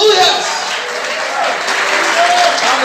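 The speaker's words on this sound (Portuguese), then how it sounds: "Você pode glorificar e aplaudir ao nome dele." A church congregation applauding during a worship service, loud sustained clapping with voices calling out over it, steady and close throughout.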